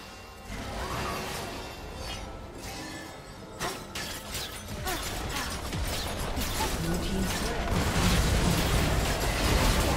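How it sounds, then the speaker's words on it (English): A turret being destroyed in League of Legends: mechanical clanks and crashing, shattering bursts over a busy game soundscape that grows louder toward the end. "Team's turret has been destroyed."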